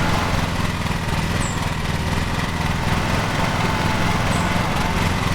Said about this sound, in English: So let's start the mower.